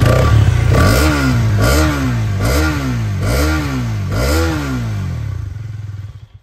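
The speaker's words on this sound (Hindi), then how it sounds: "अगर आप यहाँ पे आके देख लें इसका एग्जॉस्ट नोट कैसा है।" A Hero Karizma XMR 200cc motorcycle engine revs repeatedly, about five rising-and-falling throttle blips in a steady rhythm, loud and close, with a deep bassy exhaust note.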